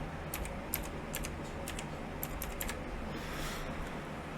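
A password is typed on a computer keyboard in a short series of quick, light clicking keystrokes over a steady low background hum, with no voices.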